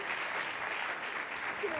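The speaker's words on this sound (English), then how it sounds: "Let's give another round of applause to Mark Whitaker and Linda Villarosa." Audience applause at a talk with Mark Whitaker and Linda Villarosa: steady, dense clapping from a full room, holding at an even level throughout without a break.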